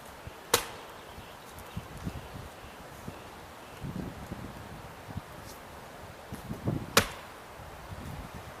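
A kindling splitter cracks tough, hard-to-split firewood, with two sharp, loud splitting impacts several seconds apart amid quiet outdoor rustling and light thuds, with no speech.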